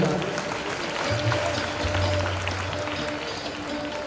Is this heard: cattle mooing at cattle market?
no